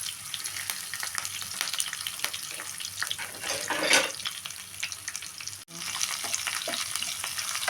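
Mustard seeds, cumin, onion and curry leaves fry in a little oil with a steady, crackling sizzle, stirred throughout and briefly swelling louder midway, close and with no one talking.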